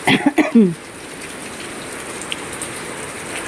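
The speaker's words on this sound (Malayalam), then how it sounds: "മഴ പെയ്തു. ഇതുവരെ തോർന്നിട്ടില്ല." Steady rain patters continuously on a surface, preceded by a few brief voice sounds at the very start.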